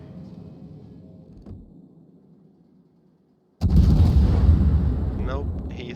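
A warship's naval guns fire a salvo in the video game World of Warships: a loud, sudden boom bursts out of a low, quiet hum and rolls into a long, rumbling tail.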